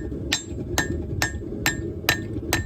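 Six sharp, evenly spaced hammer blows ring out as the tip of a knife is forged from an old horseshoe, each strike leaving a brief metallic ring.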